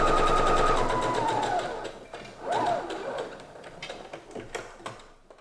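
A sewing machine runs a second gathering row on dress fabric, 1.5 cm from the raw edge, ahead of attaching it to the armhole. It gives a close, steady mechanical whir that slows and shifts pitch, then breaks into shorter bursts of stitching.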